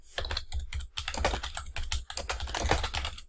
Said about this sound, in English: we will type in the title